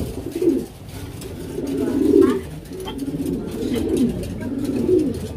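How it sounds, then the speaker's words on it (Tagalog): Pigeons coo steadily in a breeding room, with low, rolling calls repeating close by and overlapping, while someone talks over them. "Ito pares niya na lahat ng mga kalapate."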